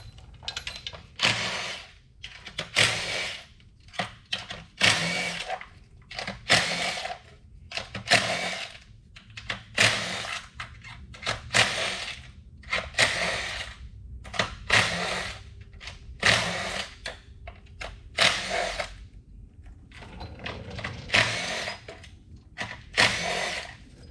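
A power tool, likely a drill or impact driver, buzzes in a long series of short, loud bursts with brief pauses as it loosens the bolts on a Ford 2.5L Duratec engine's valve cover, with no talking.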